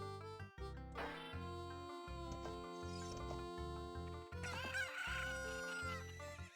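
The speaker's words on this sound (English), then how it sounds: "I have unleashed the fury of the cuckoo" Angry cuccos attacking in The Legend of Zelda: Ocarina of Time, frantic chicken clucks and squawks over steady, loud game music.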